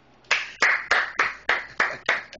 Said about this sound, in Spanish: aplaudan a John, por favor